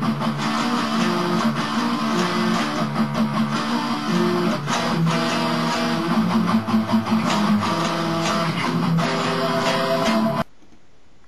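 Distorted electric guitar plays a riff, dense and loud with steady chugging palm-muted rhythm throughout, then cuts off abruptly near the end with no talking.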